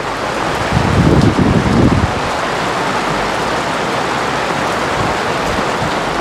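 Heavy rain falls steadily on a boat, a dense continuous hiss with a louder burst of low drumming early on, no voices.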